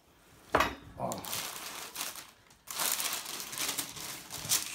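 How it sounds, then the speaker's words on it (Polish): Baking paper peeled away from a baked meringue roll on a wooden board, giving soft crinkling and crackling rustles in a few bursts, fairly faint and close by. "Ściągamy papier."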